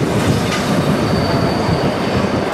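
Sauschwänzlebahn heritage train in the Wutach valley rolling slowly onto a bridge, with steady close rumble and clatter of wheels on rails and a faint high squeal running throughout.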